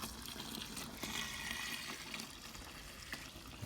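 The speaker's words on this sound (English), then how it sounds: "So we're adding 5 litres of water now to 15 litres of beer wort." Water is poured into a fermenter holding beer wort, giving a steady, fairly quiet rushing splash with faint bubbling that runs without pause; no one speaks.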